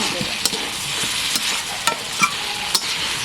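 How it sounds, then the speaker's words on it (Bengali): A spice masala being stirred in a pan, made with rupchanda fish, soybean and mixed vegetables, a loud steady sizzle broken by several quick scraping stirs, heard up close with no voices. "বেশ কিছুক্ষণ একটু নাড়াচাড়া করে নেব ঠিক দু থেকে তিন মিনিট মশলাটা ভেতরে"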